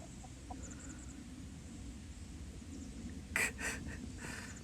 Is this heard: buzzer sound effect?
no